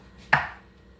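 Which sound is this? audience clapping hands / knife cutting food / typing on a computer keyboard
knife cutting food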